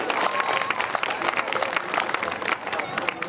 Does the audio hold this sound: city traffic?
no